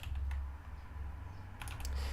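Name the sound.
typing on a computer keyboard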